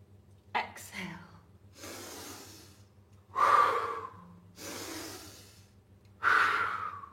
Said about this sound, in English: Inhale, slow, exhale.